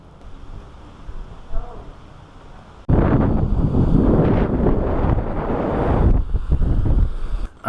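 Ocean waves and wind on the coast at Van Damme State Park, near a cliff house: soft rustling at first, then a sudden loud, roaring wash of surf and gusting wind buffeting the microphone for several seconds.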